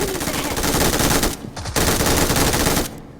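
Automatic gunfire in the mobile game PUBG Mobile, loud close rapid bursts with one short gap in the middle and an abrupt stop at the end.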